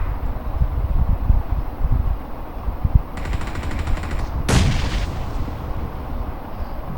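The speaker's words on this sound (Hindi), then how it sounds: "बराबर में भी ग्रेनेड हो रहा था।" A grenade blast goes off nearby during a PUBG match on the Erangel map, one sharp loud burst about two-thirds through, preceded by a brief crackle and set among rumbling game gunfire and ambient noise.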